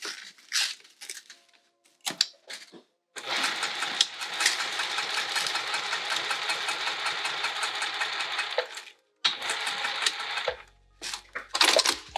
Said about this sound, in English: we're going to top stitch just the seam allowance here